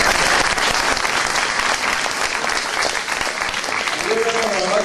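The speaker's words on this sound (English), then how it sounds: "I think you should give her a round of applause." Loud, dense applause from an audience fills the hall, a continuous wash of many hands clapping, with a voice starting to speak underneath just before it ends.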